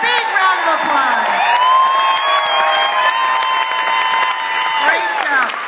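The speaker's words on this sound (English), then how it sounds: "Their final dance, a big round of applause." Audience at a grade-school show applauding after the final dance, steady loud clapping mixed with cheers and children's shouts, and voices rising over it.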